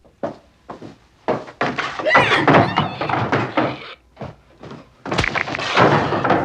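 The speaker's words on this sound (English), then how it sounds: "Leatherface bashes Kirk's skull in twice with a sledgehammer like livestock" Film sound effects of a sledgehammer striking a human skull, followed by a heavy metal door slamming, in a 1974 horror slasher; several loud, close thuds and a booming slam, with brief voice-like sounds in between.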